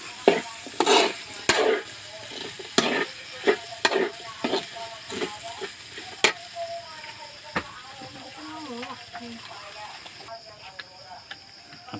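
Potatoes and clams stirred in a pan, a utensil scraping and knocking in a quick irregular rhythm over a steady sizzle of frying, with a voice speaking in Filipino now and then.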